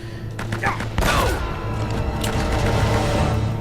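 Gunfire in Uncharted: Drake's Fortune as enemies down a hallway are hit with two headshots, sharp shots with a heavy burst near the one-second mark, ringing over game ambience and a faint voice.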